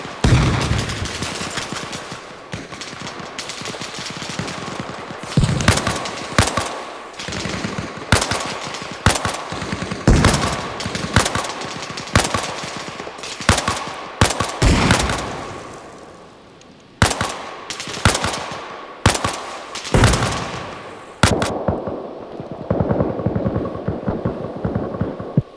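Gunfire in the Arma Reforger video game: repeated bursts of automatic fire and single shots crack loudly and nearby over a steady background hum, broken by brief pauses, with no talking.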